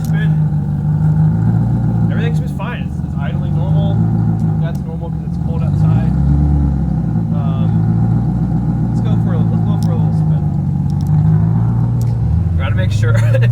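A V8 engine in a BMW E30 runs steadily at idle, a loud, close, low rumbling drone that holds for the whole stretch, while a person talks over it throughout.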